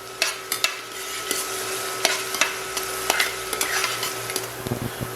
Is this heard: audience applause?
no